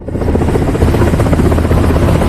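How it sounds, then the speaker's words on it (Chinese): A helicopter takes off, its rotor roaring loud and close with a rapid pulsing chop that holds steady throughout, no other sounds rising above it. "随着直升机拔地而起，刺破云层"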